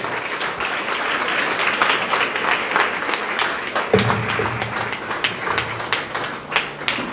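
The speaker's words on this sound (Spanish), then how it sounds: "Dale fuerte tus palmas al Rey." A church congregation claps hands together in strong, sustained applause, dense and steady throughout, with a low tone entering partway through beneath the clapping.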